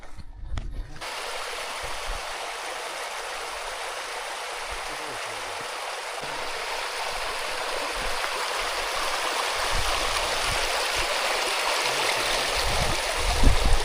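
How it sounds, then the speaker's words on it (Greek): Waterfall water flowing at Trypi, a steady broadband rushing roar that holds throughout and swells slightly toward the end, loud and continuous with no voices. "Αυτό που είναι το νερό του καταράχτη, να ξέρετε."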